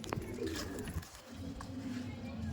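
A Madras pigeon is released outdoors, with soft cooing and brief bird calls heard faintly over a steady background hiss.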